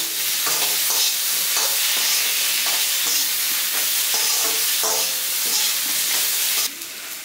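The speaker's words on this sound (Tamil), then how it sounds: "ஸோ உருளைக்கிழங்கு போட்ட பிறகு எல்லாத்தையும் நல்லா கலந்து விட்டுருங்க." Boiled baby potatoes are stirred into a frying chilli masala for a pepper roast, giving a steady loud sizzle with repeated scraping strokes of a spoon around the pan throughout.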